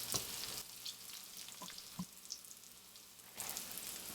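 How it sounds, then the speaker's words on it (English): Steady crackling sizzle of zucchini frying in a pan, with a few soft clicks and stirring bumps, close and continuous. "our zucchini's been frying a little longer"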